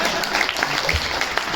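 A crowd at a Hindi kavi sammelan at the Taj Hotel in Jodhpur breaks into a brief wash of steady, fairly loud applause that fills the hall throughout.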